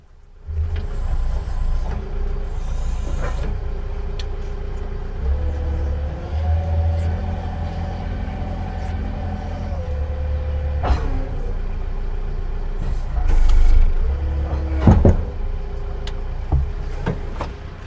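A Manitou MT625H telehandler's diesel engine runs steadily while the machine is loaded, a low continuous rumble with slight pitch changes and a few clunks and a louder surge partway through; no talk.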